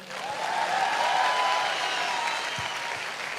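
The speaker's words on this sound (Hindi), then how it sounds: "तालियां तो बजा दो यार।" Audience applause after a motivational speaker's joke at a talk, a dense, loud wash of clapping that swells in the first half-second and holds steady, with a few louder single claps standing out.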